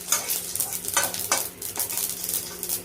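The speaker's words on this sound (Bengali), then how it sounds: "এর মধ্যে সর্ষে আর শুকনো লঙ্কা ফোড়ন দিলাম।" Mustard seeds and dried chilies tempering in hot oil, a crackling sizzle broken by several sharp stirring strokes and pops, close and moderately loud.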